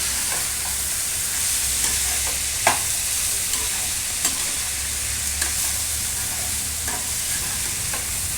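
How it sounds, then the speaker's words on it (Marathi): Vegetables for a veg dum biryani get stirred in a pan, a low continuous sizzle broken by a handful of sharp spoon clicks and scrapes, fairly quiet and close. "हे छान आता हलवून घ्यायचं आपल्याला।"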